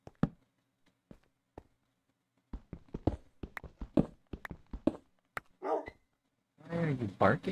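Dog barking during a Minecraft building session, with someone talking throughout: scattered short barks come between his words, ending in a louder, sustained burst of barking.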